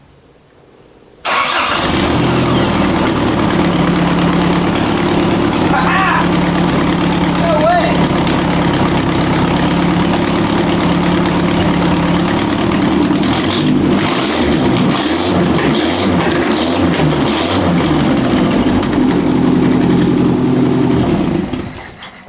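A budget Toyota Corolla fitted with new electronics starts and idles loudly up close, then rises through a series of sharp revs that bounce against the rev limiter before settling back, with no voices over the engine.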